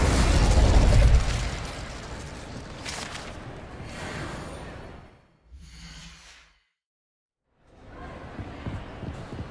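An Incendio fire spell bursts in Hogwarts Legacy with a loud, booming, fiery blast that fades into a crackling, whooshing tail. A short flaring burst follows, then a pause of silence before the game sounds resume.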